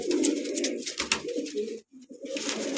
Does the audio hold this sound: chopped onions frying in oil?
no